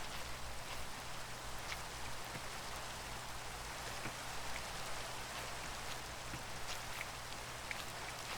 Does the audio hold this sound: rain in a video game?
yes